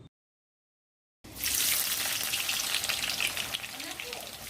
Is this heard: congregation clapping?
no